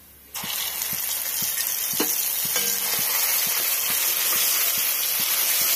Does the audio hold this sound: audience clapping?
no